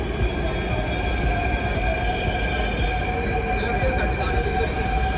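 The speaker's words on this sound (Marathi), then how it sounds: "ही आपली दुसरी मेट्रो आली, याच्यामध्ये बसायचं आपल्याला." A Delhi Metro train pulls into the platform with a loud, steady rumble and high wheel and motor whine. The noise stays continuous and close throughout.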